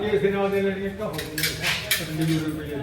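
Steel glasses, plates, spoons and ladles handled and stacked at a village prize distribution, giving scattered clinks and clatters close by while people talk over them.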